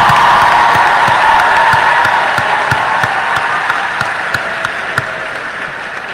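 An audience at a graduation ceremony breaks into loud, sustained applause with crowd noise and cheers, the clapping slowly easing off over several seconds.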